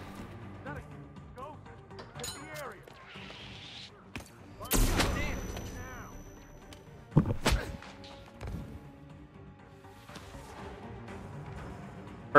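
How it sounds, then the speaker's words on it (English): Gunfire in the video game Hitman 3, played in VR: a few sharp, loud shots and bursts stand out against game ambience, with a person talking over much of it. "Gunshot heard. Oh my gosh, someone's shooting out there."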